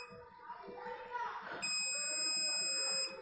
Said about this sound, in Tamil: உங்களுக்கு பஸர் சவுண்டு கேட்குதுன்னு நினைக்கிறேன்